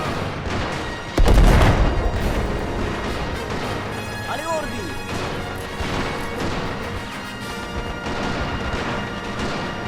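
A grenade blast in a 1935 Italo-Ethiopian War mod for a war video game: one sudden loud boom with a long rumbling tail, followed by battle noise while someone talks over it.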